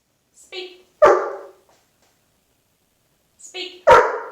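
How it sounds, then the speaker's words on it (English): A hypo alert dog barks on command, two loud, close single barks a few seconds apart, each preceded by a brief softer vocal sound. "he'll just bark at you because he's asking what you want him to do"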